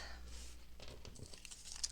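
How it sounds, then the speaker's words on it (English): Scrap paper being folded and crinkled for junk-journal flowers, giving close, soft rustling and crackling bursts over about two seconds with faint background hum. "And so you're just folding"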